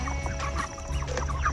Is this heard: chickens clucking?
yes